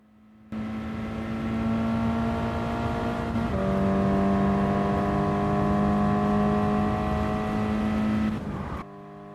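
A 2022 Toyota GR86 racing in Gran Turismo Sport with traction control set to 2, its engine holding a loud, steady high-revving drone that shifts pitch once midway before cutting off abruptly.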